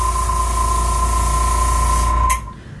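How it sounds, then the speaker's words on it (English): Continuous hissing spray from an airbrush applying makeup over a steady motor hum, cutting off with a brief puff near the end. "So we're going to spray till we see color."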